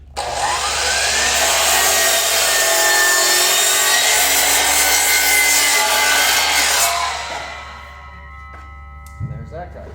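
A compound sliding miter saw is pulled out, lowered and pushed through a piece of wood. It makes a loud, close roaring whine for about seven seconds, then winds down and ends with a brief clunk.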